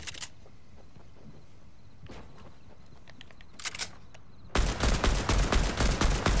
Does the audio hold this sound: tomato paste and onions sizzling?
no